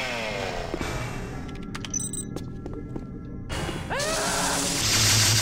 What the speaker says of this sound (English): That chainsaw is pissing me off, the noise.